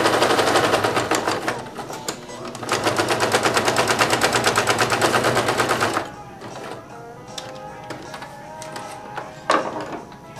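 A sewing machine stitches a triangle across the corner of a camo blanket in fast, rattling bursts, running steadily for several seconds before stopping, followed by quieter handling and shifting of the fabric.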